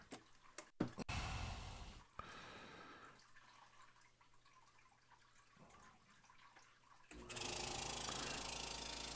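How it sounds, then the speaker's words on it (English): A vacuum sealer works on a multi-pack of pork shank at home, with a steady low motor hum and loud broadband hiss that runs for several seconds, starts and stops, then rises to a louder rush near the end. "So this I'm going to seal in the vacuum sealer."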